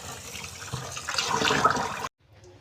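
Rice being washed in water, a close, steady sloshing and running-water sound that swells and then stops abruptly, leaving near silence.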